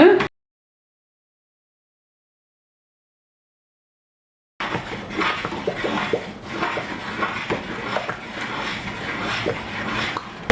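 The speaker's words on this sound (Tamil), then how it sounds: "5 நிமிஷம் ஹை ஹீட்டில் வச்சு கிண்டி கொண்டிருக்கிறேன் கைவிடாம." Thick Sri Lankan rice flour dodol (kalu dodol) being stirred nonstop in a pot over high heat: after a stretch of silence, steady close scraping and squelching with soft clinks against the pot.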